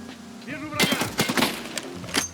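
Gunfire in the video game Escape from Tarkov, a burst of several sharp reports following a brief voice, with a final shot trailing after a short gap.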